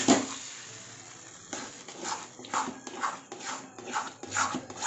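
Upma kozhukattai mixture being stirred in a pan, a quiet, rhythmic scraping and rubbing of a spoon against the metal, repeating in soft strokes roughly every half second, with no talking.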